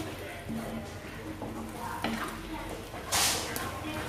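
Soya chunk masala stirred and sautéed in a pan, with a soft, continuous sizzle, occasional utensil scrapes and a brief louder clatter near the end.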